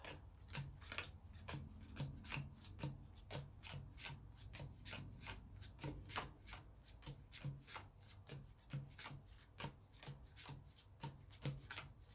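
A deck of playing cards for the Lord of the Rings living card game is shuffled by hand in quick, repeated rubbing strokes for about twelve seconds, close and quiet.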